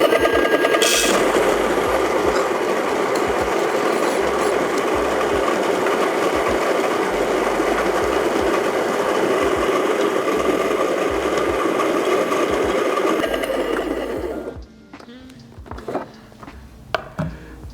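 A Baratza Encore home filter coffee grinder runs continuously for about fourteen seconds, a loud close motor whir with gritty grinding, then cuts off, leaving a few small clicks and taps.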